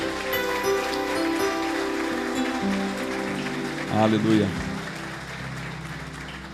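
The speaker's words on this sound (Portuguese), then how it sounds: "Você pode dar uma salva de palmas a Jesus." Steady broadband clapping from a church crowd fills the room throughout, with music playing and a voice briefly calling out over it.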